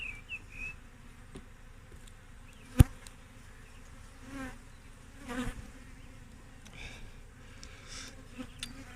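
Honey bees buzz softly and steadily around a hive frame as they are knocked off it for a disease check, with a sharp tap at one point and faint whines rising over the low hum.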